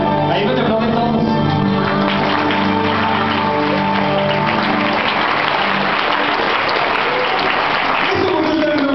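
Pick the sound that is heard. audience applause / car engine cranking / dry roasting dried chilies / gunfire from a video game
audience applause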